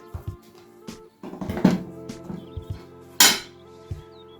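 Hot dog and bacon filling is mixed in a bowl, with close, clattering utensil clinks and scrapes in an uneven rhythm and one louder scraping knock near the end.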